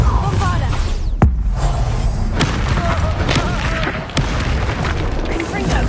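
Heavy booming blasts from a Bombarda spell in the game Hogwarts Legacy, a deep rumbling explosion with sharp cracks and pops over continuous loud combat noise, with a character's voice calling out.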